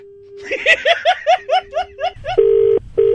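A steady telephone dial tone sounds after a handset is hung up, with chirpy laughing or snickering bursts over it before the tone returns as a loud continuous hum with a short break.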